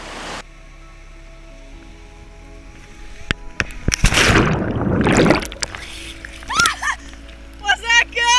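A person leaps off a cliff into cold waterfall water, and a loud, broad splash crashes in near the middle, followed by excited voices and shouts.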